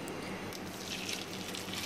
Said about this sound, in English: So now I'm gonna strain the water,